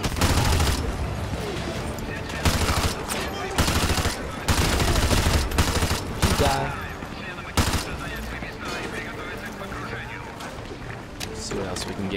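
Sustained automatic gunfire in Call of Duty Modern Warfare 2 Remastered campaign: loud, dense bursts of rifle and machine-gun fire rattling almost nonstop, with brief gaps and battle noise between volleys.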